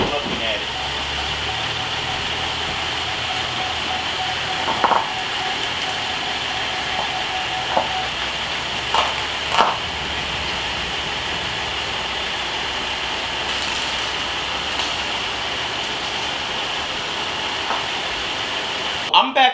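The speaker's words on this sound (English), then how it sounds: "You can hear that the engine sounds good. It's not like running rough." A 2016 Buick Enclave engine running steadily at idle with a smooth, even drone and a few faint clicks, heard close and fairly loud without any speech.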